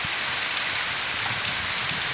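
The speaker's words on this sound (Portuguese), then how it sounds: "Alegria do sertanejo. Chuva da boa." Rain falls steadily in the Brazilian sertão on a Sunday evening, a dense, even hiss of drops hitting the ground with no break.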